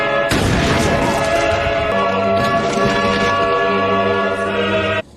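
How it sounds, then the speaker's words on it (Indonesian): A large explosion in a gangster action film hits suddenly and stays loud as a dense roaring rumble for several seconds, then cuts off. "sebuah ledakan besar kembali terjadi"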